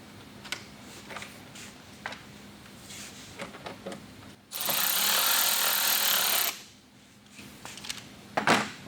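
A power driver runs a mud flap screw with washer and spacer into an upper insert on a 2022+ Toyota GR86, one loud sustained whir of about two seconds between quieter handling clicks and taps.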